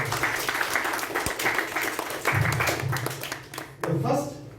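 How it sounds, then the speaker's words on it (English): Audience at a youth leadership teaching session clapping, with brief scattered applause mixed with voices and some talk, uneven and moderately distant, tapering toward the close. "Please give a thunderous round of applause."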